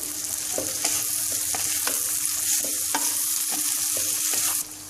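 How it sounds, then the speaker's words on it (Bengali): Bitter gourd pickle is stirred in hot oil, a bright, steady sizzle broken by quick repeated scrapes and knocks of the spoon against the pan, close and continuous with no voices. "এবার আমি আর একটু নেড়ে চেড়ে নিচ্ছি"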